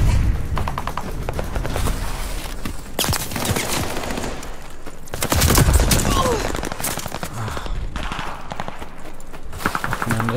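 Rapid gunfire in the online shooter Call of Duty Vanguard during a team deathmatch, dense bursts and booms throughout, loud, with occasional player talk over it.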